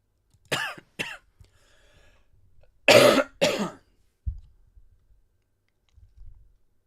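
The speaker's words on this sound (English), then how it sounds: "My cough." A string of coughs, with two short hacks first, then a louder harsher pair, close to the microphone, followed by faint throat noises and quiet gaps.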